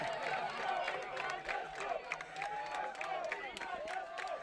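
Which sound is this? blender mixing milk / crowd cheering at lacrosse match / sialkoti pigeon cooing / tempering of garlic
crowd cheering at lacrosse match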